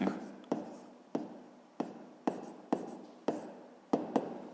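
A pen writes out a sixth-grade math solution on paper, a series of quiet, regular scratching strokes, each starting sharply and tapering off, close and faint with no voice over them.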